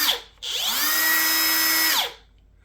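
A Ryobi cutoff tool spins up to a steady high-pitched whine, holds for about a second and a half, then winds down, loud and close with no voices; a brief burst of the motor comes just before.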